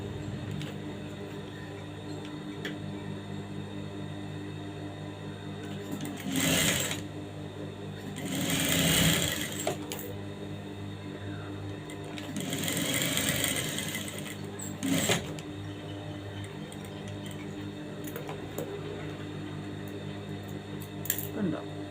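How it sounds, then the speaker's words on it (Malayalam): Sewing machine stitching fabric during a tailoring class, running in several short steady bursts over a constant background hum. "അവിടെ ഒന്ന് സ്റ്റിച്ച് ചെയ്ത് കൊടുക്കണം."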